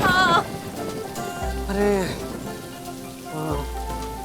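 Steady rain of the season's first shower falls on a household surface, a constant wash of patter sitting beneath brief spoken exchanges between family members.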